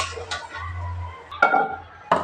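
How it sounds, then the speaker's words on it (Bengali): A utensil stirs taro and boiled meat in a pot, making a few sharp metallic clanks and scrapes spaced apart over a low steady hum, with no talk. "কচুটা আমি দিলাম তো একটু নেড়ে চেড়ে নিচ্ছি।"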